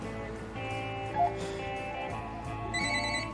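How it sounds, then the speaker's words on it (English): A telephone rings in a room during a film scene, a steady electronic ring heard mid-level over background music and ambient sound, with no talking. "let me get the phone"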